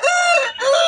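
A rooster at a poultry market gives a single loud, close crow with a brief break in the middle, heard alone.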